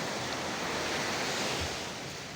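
Steady roar of surf washing along a shore, continuous and fairly loud with no voices.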